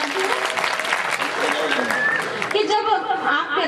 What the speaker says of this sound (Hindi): इतने अच्छे श्रोताओं के सम्मान में एक बार ताली बजा दीजिए